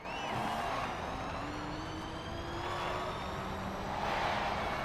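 Interior sound of a Rimac C_Two electric car in Forza Horizon 4, a steady whine with thin tones that glide slowly in pitch over a low rolling road hum, constant and moderately loud.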